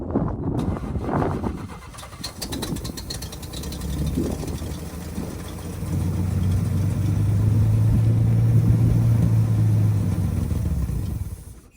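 An old oil field engine runs at a steady idle nearby, its chugging growing louder and fuller midway before cutting off abruptly at the end.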